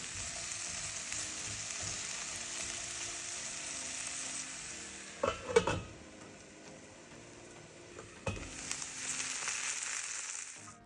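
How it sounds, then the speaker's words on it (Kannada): Sliced okra frying in a pan, a steady soft sizzle broken by a few gentle stirring scrapes and clatters of a spoon, close by with no voices. "ಬೆಂಡೆಕಾಯಿ ಹಾಕಿದ ಮೇಲೆ ತುಂಬ ಮಿಕ್ಸ್ ಮಾಡೋಕ್ಕೆ ಹೋಗಬೇಡಿ, ಜೆಂಟಲಾಗಿ ಮಿಕ್ಸ್ ಮಾಡ್ಕೋಬೇಕು."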